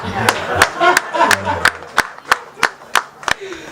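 Audience at a press conference in Goma honouring Papa Wemba breaks into scattered clapping, sharp individual claps repeating irregularly across the room, with a voice briefly speaking over the start.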